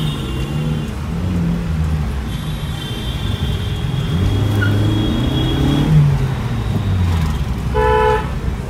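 A modified, straight-piped Maruti Suzuki Baleno is driven through city traffic, its engine droning and rising under the noise of nearby vehicles, with several car horns tooting close by toward the end.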